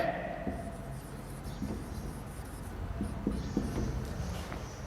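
Marker or chalk writing on a classroom board during a grammar lesson, heard as steady scratchy strokes with a few sharper taps, moderately close and alone without talk.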